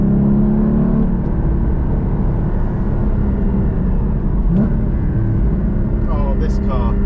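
Porsche GT4 sports car under way on the road: a loud, steady engine and road drone with a low rumble running throughout, swelling slightly with brief rises in revs.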